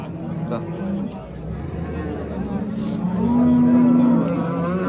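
Cows low in long, drawn-out moos at an outdoor dairy cattle market in Shahrixon, Andijan, with one louder, nearer call toward the end, over a steady hubbub of voices and people talking.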